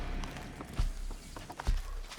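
Horse hooves clip-clopping on a dirt trail in the video game Red Dead Redemption 2, with two heavier thuds standing out over a steady ambient wash.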